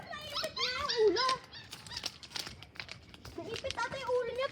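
Puppy with its head stuck, giving high wavering whimpers and whines in short bursts amid crinkling and rustling, with people talking close by.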